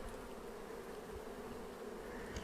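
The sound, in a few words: bees attacking a robbing wasp at the hive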